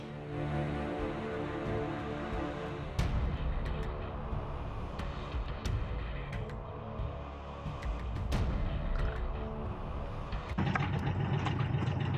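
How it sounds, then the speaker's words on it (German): A sailboat's engine idles steadily at anchor off Formentera in the early morning after the boat has dragged its anchor, a close, constant low droning hum with a few faint knocks and clatters on top. "Ich schalte mal den Motor aus, dann ist es vielleicht besser."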